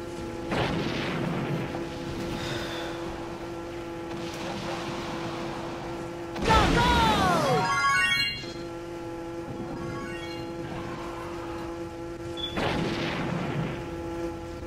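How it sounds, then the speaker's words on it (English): Ziki bomb exploding in the Roblox kart racing game Super Roblox Kart, a loud booming burst midway over a steady engine-like game drone, with fainter similar blasts before and after. "Ouch, you must be a victim of the Ziki bomb."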